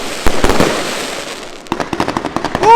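Hallmark Queens Gambit fireworks, a UK consumer cake, fire a series of loud sharp bangs, first a few scattered blasts and then a quick rhythmic run of cracking shots ending in crackling, heard close.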